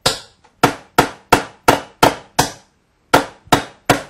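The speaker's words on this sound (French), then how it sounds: "bien prendre en main son marteau et taper doucement" A hammer taps a nail with a steady series of about ten sharp, separate knocks, each one ringing briefly before the next. The strikes are clear and close, with short pauses between them and no voices.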